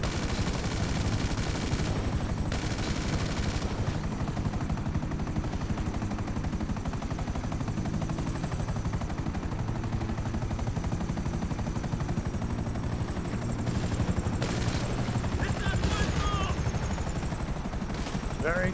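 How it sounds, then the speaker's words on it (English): Steady machine gun fire rattles continuously against a dense engine drone as a ship shoots at buzzards in a space video game, the loud mechanical roar staying constant throughout with a faint high whine above it. "See what happens if I hit them with machine guns."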